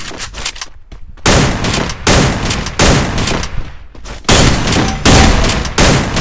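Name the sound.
gunfire in the video game Free Fire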